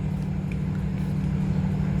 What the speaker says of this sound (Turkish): O arkadan araba geliyor çok iyi duruyor